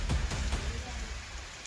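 Heavy rain pours down in Jalandhar during flooding, a dense, steady hiss of falling water with a few louder splashing thuds at the start.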